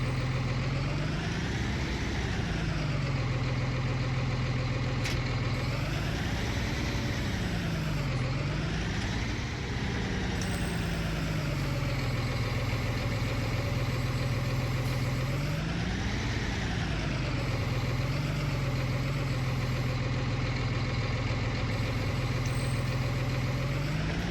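A tractor engine idles steadily in Farming Simulator 19, a loud, continuous low diesel rumble with slow swells in pitch over about twenty-four seconds, with no talk over it.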